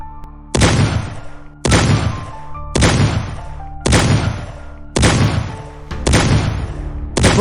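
Volley of gunfire aimed at a creature, six loud, sharp blasts spaced roughly a second apart, each with a booming tail that rings on before the next shot.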